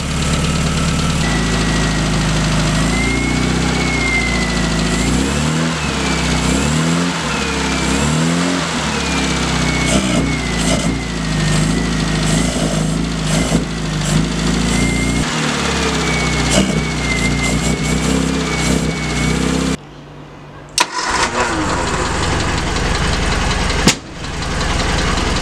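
A Leyland Mini engine, recently brought back to running and lightly tuned at the distributor, idles steadily and loudly up close, with a continuous low rumble that briefly cuts out near the end before returning.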